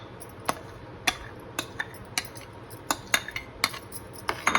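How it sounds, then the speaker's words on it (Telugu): A spoon stirs muskmelon juice into chilled cardamom milk in a steel vessel, giving repeated sharp metallic clinks and scrapes at an uneven rhythm, close and distinct, with no voices. "కర్బూజా జ్యూస్ కూడా మొత్తం వేసేసుకుని ఇలా కలుపుకోవాలి"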